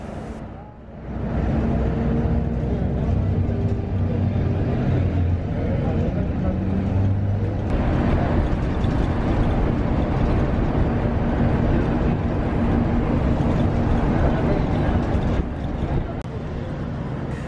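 Inside a Caio Millenium III Volvo FL city bus on a Transantiago route, a continuous engine drone and road rumble fill the cabin, with people talking over the steady ride noise.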